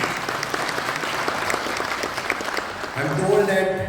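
Steady audience applause at an engineering conference, a dense wash of claps lasting a few seconds, with a voice emerging over it near the end.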